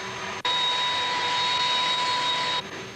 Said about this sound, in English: The engines are also run up to speed on the ground.